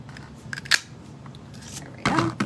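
Scissors cutting through a paper tag during papercraft, a few crisp snips with one louder cut near the start and a firmer run of cutting toward the end, close up over quiet room noise.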